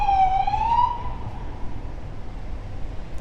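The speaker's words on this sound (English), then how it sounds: "Sounds like there's a siren going on here." An emergency vehicle siren wails on a street in Ibiza, its tone sweeping for about a second before fading into distant, steady background traffic noise.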